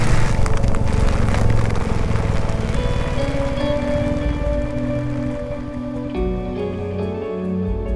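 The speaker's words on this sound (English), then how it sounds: "It's a pretty strong rain." Heavy monsoon rain in Kudremukh National Park pours steadily and loudly, a dense continuous roar of drops on surfaces that eases slightly toward the end, with no voices.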